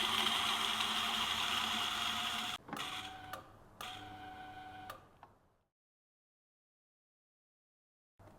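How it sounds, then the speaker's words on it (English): A home espresso grinder grinds out the last coffee with a steady close whir for about two and a half seconds. A few shorter bursts follow, then it winds down into silence. "Close the hopper chute and grind out the remaining coffee."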